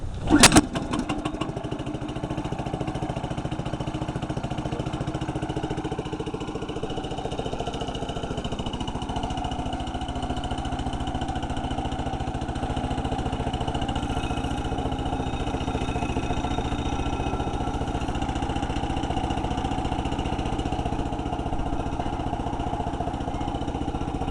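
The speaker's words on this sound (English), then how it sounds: "Okay, let's fire it up." A Norwood LM29 portable sawmill engine cranks with a brief loud burst, catches, and then settles into a steady, continuous mid-pitched running drone that holds close and even throughout.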